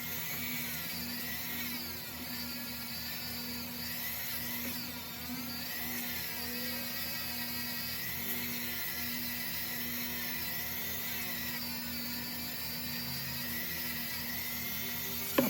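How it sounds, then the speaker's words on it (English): A buffing wheel whines steadily while polishing a heart pendant cut from a Kennedy half dollar coin ring. The tone holds constant and moderately faint, with no speech. "I like to go back over it with the buffing wheel just to make sure everything looks great"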